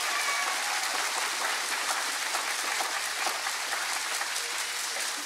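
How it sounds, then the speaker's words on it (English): An audience gives a steady round of applause for educators at an education excellence awards event, dense clapping sustained evenly throughout without a break. "one more round of applause for all of our excellent educators"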